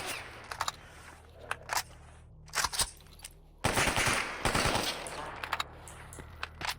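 Gunfire in Stalker Anomaly comes in scattered single shots and short bursts over several seconds, followed by a denser, louder volley partway through, all heard at a moderate distance against a quiet background.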